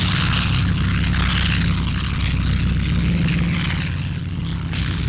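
Low-flying WWII bombers, B-26 Marauders, roar over the English Channel in a steady, loud drone of propeller engines that holds throughout without a break.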